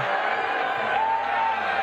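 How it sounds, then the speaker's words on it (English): A convention crowd boos as Donald Trump is introduced for a speech, a steady, dense roar of many voices sustained throughout at moderate distance, with no single voice standing out. "People are already booing."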